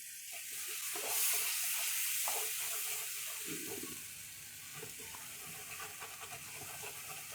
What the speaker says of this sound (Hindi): मसाले को हम भून लेंगे तकरीबन 3 से 4 मिनट।